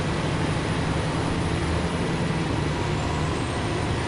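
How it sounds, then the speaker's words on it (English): Heavy trucks grinding along in Snowrunner, a dense, constant engine roar and rumble close by, steady with no breaks. "Boy, hearing both these trucks coming up through here."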